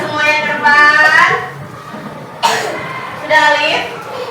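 A child coughs in a classroom, with short harsh bursts near the start and two more coughs around the middle and end, fairly loud and close, with faint room noise between them.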